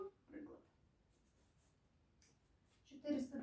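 Chalk or marker writing on a board during a math lesson on division, short scratchy strokes coming in brief bursts near the start and again at the end, with quiet pauses between.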